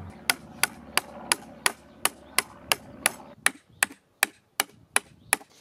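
Hammer blows drive two pegs into the ground to hold the perimeter wire of a Redkey MGC500 robot lawn mower, giving a steady run of about fifteen sharp, evenly spaced knocks, close and loud, with no talking.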